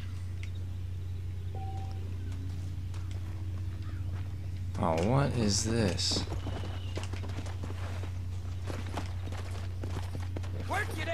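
Hollow clip-clop of a horse's hooves in the video game Red Dead walking at a steady pace over a constant low engine-like hum, with a voice speaking briefly partway through.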